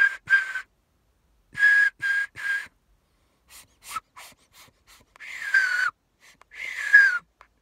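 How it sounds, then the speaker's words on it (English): Loud whistling made without fingers, heard up close as a series of short sharp bursts followed by longer, gliding tones, with quiet breathy pauses between them. "once I relax it, you see that little pocket and the whistle comes out"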